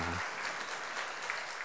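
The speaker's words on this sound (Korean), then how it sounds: "박수 한번 부탁드리겠습니다" A church congregation at a Sunday morning service breaks into steady, close applause that fills the brief moment after a short low sound at the start.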